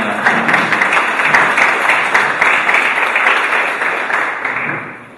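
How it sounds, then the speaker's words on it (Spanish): Applause from a lecture audience welcoming a speaker rolls on steadily for about five seconds, a thick wash of many hands that tapers slightly at the end. "le vamos a dar la bienvenida a Gisela con un aplauso"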